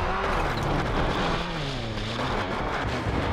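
Rally car engine in a PS2 WRC game on the Acropolis Rally stage, a loud continuous droning engine note with pitch sweeping up and down through gear changes, heard alone.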